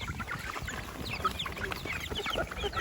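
Breeding chickens clucking in a farmyard, faint overlapping clucks and short calls from several birds scattered through a low, busy background.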